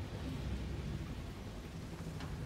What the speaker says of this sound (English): Void storm rolling in.